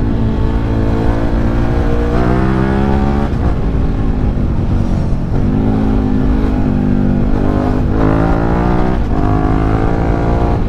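SVT650 adventure motorcycle engine heard while riding: a loud, steady, close-up drone with rising and falling pitch as the rider shifts and accelerates repeatedly, with heavy wind rumble underneath and no talk.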